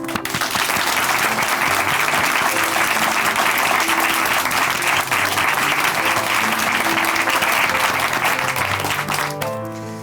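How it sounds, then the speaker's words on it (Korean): Sustained audience applause from a studio congregation during a Korean church television program, a dense, even wall of clapping lasting about ten seconds and fading out at the end. "우리 박수로 함께 응원해드리고 함께 힘을 실어드리도록 하겠습니다"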